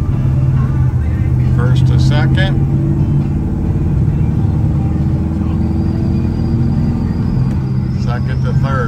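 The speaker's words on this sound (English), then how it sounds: "Second to third, nice solid shifts." 1980 Chevrolet C10 pickup truck driving and shifting gears, with a steady loud engine rumble, plus someone talking over it.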